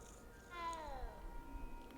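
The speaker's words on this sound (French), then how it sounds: "Le petit chat." A cat in the video game Hogwarts Legacy gives a single short, quiet meow that rises and then falls, set against a soft game ambience.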